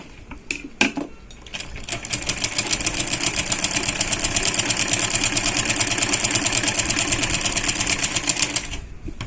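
A sewing machine runs steadily, stitching pin tucks into blouse fabric, with a fast even mechanical chatter held close and loud for most of the stretch after a few brief handling clicks at the start.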